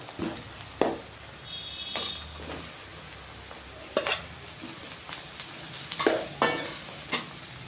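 Garlic sautéing in a pan, stirred with a utensil that scrapes and taps the pan in irregular strokes over a soft, steady sizzle, close by, no talking.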